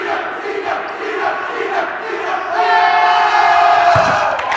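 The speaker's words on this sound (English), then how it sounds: "Good crowd on hand for this semifinal game" A large crowd cheers and roars steadily in a gym during a girls high school basketball semifinal, a loud sustained wall of voices that swells near the end with a sharp thump.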